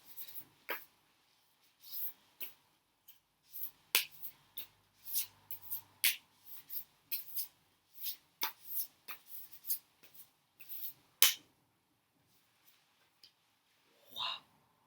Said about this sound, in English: I'm compelled to shuffle again, so let's shuffle just a bit more here.